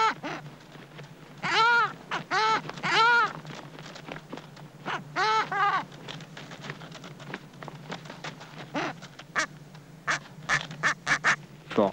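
Penguin chicks squabbling with their mother in the Antarctic, giving harsh, nasal, quacking calls in several loud bursts separated by pauses, with shorter, sharper cries near the end.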